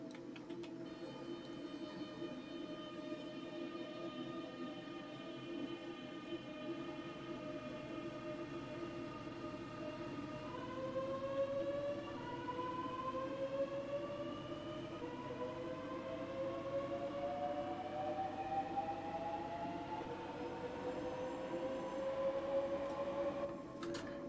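An electric commuter train in Train Simulator Classic pulls away from a standstill on a Thameslink route: a steady cab hum, then rising, whining traction-motor tones that climb in pitch as it gathers speed. No talking.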